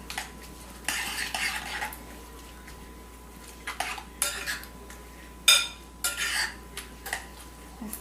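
Protein and greens being stirred together in a bowl, clinking and scraping of a utensil against the dish in uneven bursts, close and fairly quiet over a low background hum.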